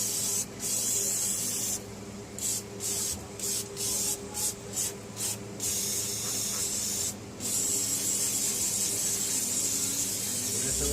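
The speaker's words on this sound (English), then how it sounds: "I'm going to take some brake cleaner and kind of clean up my area here" Aerosol brake cleaner sprayed onto front brake parts of a 1998 Suburban during a brake line replacement, several short hissing bursts followed by a long continuous spray, close and loud.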